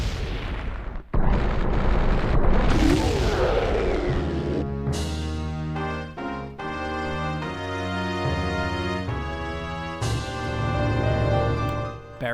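Boss Barinade dies in Ocarina of Time: a dense burst of rumbling explosions gives way to a loud, rising chime-like fanfare of sustained tones, with a second flourish near the end.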